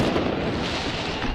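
Fireworks during violent street clashes in Nantes, a dense loud rumble of crackling bursts with no clear gaps.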